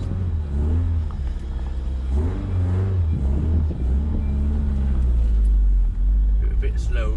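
Toyota MR2 fitted with an induction kit built from scrap parts, accelerating on the road with windows down: a deep engine rumble and rising intake drone swelling and falling through the gears, with people talking over it.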